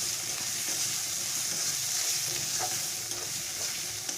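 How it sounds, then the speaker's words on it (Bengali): Cumin, coriander and turmeric powders being stirred in a pan for a pomfret curry, with a steady sizzle of frying and soft spoon scraping throughout, close and continuous with no talking. "দিয়ে এবারে আমি মশলাটাকে মিশিয়ে নেব ভালো করে"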